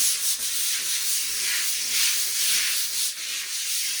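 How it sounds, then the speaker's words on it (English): Steady, close scrubbing on textured porcelain tile grout, a continuous rough brushing hiss with slight back-and-forth swells and no voices. "give it an extra scrub for 30 seconds or a minute"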